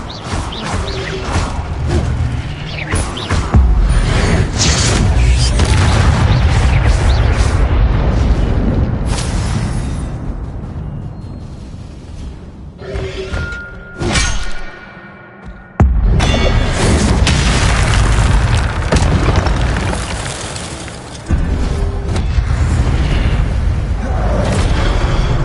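Incendio fire-spell blasts in a Hogwarts video game boom and rumble loudly in long, dense bursts, with a short near-silent gap midway before the fiery roar resumes.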